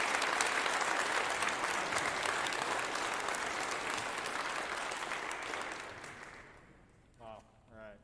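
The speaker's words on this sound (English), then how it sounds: "But can we get a round of applause for Mr. Ward?" Audience applause for Mr. Ward at a high school orchestra concert, a sustained, fairly distant wash of clapping that tapers off over seven seconds, with a voice speaking briefly at the end.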